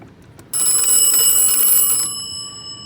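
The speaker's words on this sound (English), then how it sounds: "We also have a couple of early phone ringers" An early telephone ringer bell, part of a school science teacher's desk setup, rings loudly and continuously for about a second and a half, then its metallic tone fades with a lingering ring.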